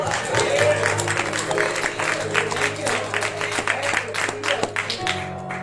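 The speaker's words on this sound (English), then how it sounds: "Clap your hands, somebody." A Baptist church congregation claps along through the whole stretch, a dense steady patter of many hands at moderate volume, with voices mixed in.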